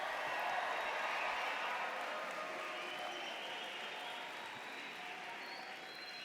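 Audience applause with some cheering at a university business college commencement ceremony, a dense sustained wash of clapping from a large crowd heard at a distance, slowly tapering over several seconds.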